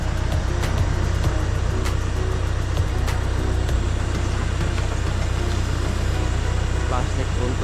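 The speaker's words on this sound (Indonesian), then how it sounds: "seperti ini proses penarikannya pakai traktor" A tractor engine runs steadily nearby with a low, droning rumble as it pulls plastic sheeting into place in an apple orchard, while a voice talks intermittently over it.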